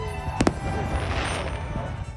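Fourth of July fireworks for Independence Day, heard as a pair of sharp pops near the start followed by a soft, crackling, sizzling wash that fades out; moderately faint, with no talk.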